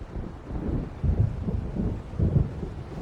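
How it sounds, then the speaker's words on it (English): Low rumbling thunder from an approaching storm in the video game Alan Wake, rolling in repeated swells over steady wind-like noise, fairly close and moderately loud. "It seems there's a storm coming."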